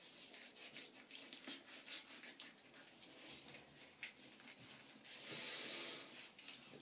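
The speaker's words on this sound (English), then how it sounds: "Now obviously I've got a bit of soap on my hands. So I'll rub that into my face." Hands rub shaving soap into a face, a close, soft, continuous wet scrubbing and rasping with rhythmic strokes, growing louder toward the end.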